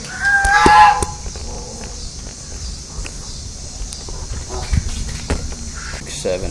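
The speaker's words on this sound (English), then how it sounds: "I see 13 ducks." Ducks at a park pond give a few honking quacks early on, followed by scattered footsteps and faint outdoor noise, fairly close, with occasional light sounds but no clear speech.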